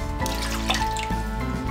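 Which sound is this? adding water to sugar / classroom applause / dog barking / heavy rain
adding water to sugar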